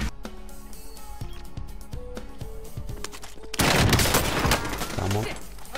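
Bursts of automatic gunfire from COD: Warzone, a video game, with sharp repeated shots early on, then a loud sustained volley of rapid fire and impacts, mixed with game sounds and voices.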